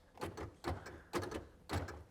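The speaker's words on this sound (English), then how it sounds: "Power door locks" Four quick mechanical clunks of a 1986 Chevrolet Camaro Z28's power door locks actuating, evenly spaced about half a second apart, close and fairly quiet.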